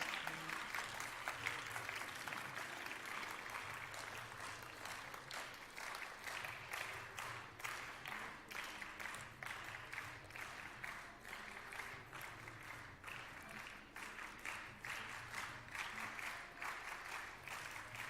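Sustained applause from an audience at a school investiture ceremony, moderately distant and steady, with dense clapping running throughout.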